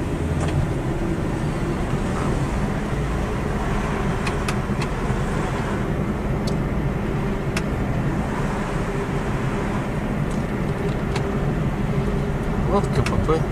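Steady road rumble of a car driving through a residential area with guarded houses, continuous low engine and tyre noise throughout.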